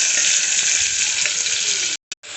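Coriander and mint leaves frying in hot oil give a loud, continuous hiss and crackle up close, which cuts out abruptly near the end with a brief burst before returning.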